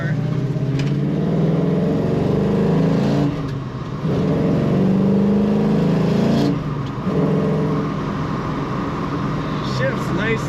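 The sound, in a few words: 1974 Plymouth Cuda engine running and shifting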